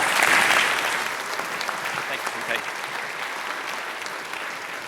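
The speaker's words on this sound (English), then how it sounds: "Big round of applause." A conference audience at ShipItCon breaks into applause, a dense burst of clapping that starts strong and settles into steady, slightly thinner clapping over five seconds.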